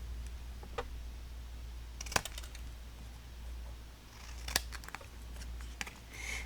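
Scissors trimming paper collage pieces from a holiday collage kit, giving a few sharp, quick snips at scattered moments over a low steady room hum, with no talking.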